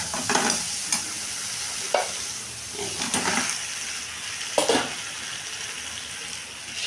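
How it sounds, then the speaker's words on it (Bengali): Katla fish and potatoes fry in hot oil, giving a continuous sizzle broken by several sharp clatters of stirring at irregular intervals. "আমি তোমার মাছটা আর আলুটাকে ছেড়ে দেবো"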